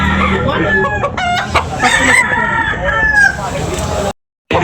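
A red rooster crows in a busy morning poultry market, its call rising over a loud background of other birds and crowd chatter, then cutting off abruptly.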